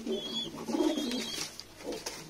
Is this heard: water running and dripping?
no